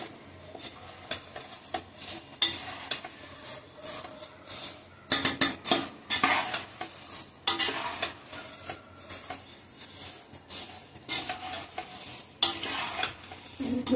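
Puffed rice (kurmure) stirred in a pan with the gas switched off, a dry rustling scrape with irregular clinks of a spoon against metal, close and fairly loud, with no talk.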